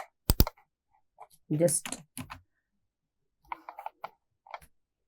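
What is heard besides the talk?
typing a query on a computer keyboard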